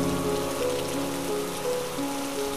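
Steady rain falls in a continuous dense patter, close and even throughout, with no voices.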